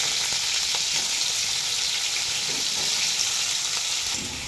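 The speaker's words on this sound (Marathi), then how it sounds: "आता याच्यामध्ये ना 1 चमचाभर तेल घालून घेते। तर आता या तेलामध्ये घालून घेते" Paneer pieces fry in a spoonful of oil in a kadhai for matar paneer, giving a steady, loud, close-up sizzle that runs unbroken the whole time with no talking.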